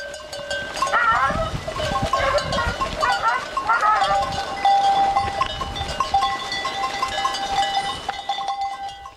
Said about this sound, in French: Des centaines de chèvres de toutes les couleurs descendent le long de la montagne